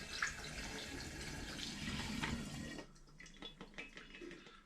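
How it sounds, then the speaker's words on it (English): Lemon spirit pours from a vessel into a glass demijohn in a steady liquid rush that stops abruptly, followed by a few faint drips and trickles. "So what I want to do now is very carefully, he says, pour it back into the demijohn,"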